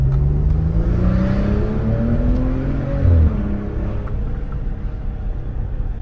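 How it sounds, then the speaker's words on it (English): A Maserati Ghibli SQ4 in sport mode revs its loud exhaust, a deep engine note climbing and falling through several swells, with a brief thump near the middle, heard from close by with no talking. "Exhaust is way louder. I don't know if you guys can hear that real good"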